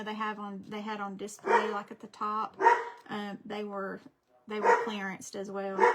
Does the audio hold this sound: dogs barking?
yes